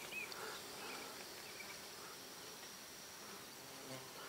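A soft, steady buzzing of a honey bee among flowers in the rain drones on continuously against a quiet outdoor background, with no voices.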